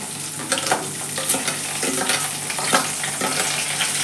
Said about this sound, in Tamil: இப்போ வெங்காயம் சேர்த்துக்கிறேன்.